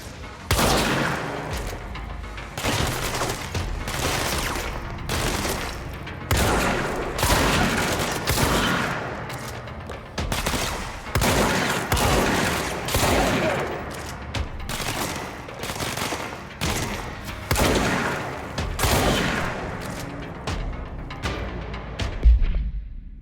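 Sustained gunfire from shooting enemies in the video game Control, with dense bursts of shots and booming impacts crowding together across the whole stretch, loud and near with little pause.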